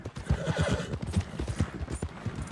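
Hooves clop in a steady rhythm as a horse in the game Red Dead Redemption 2 moves close by, with a brief neigh among the beats and no talk.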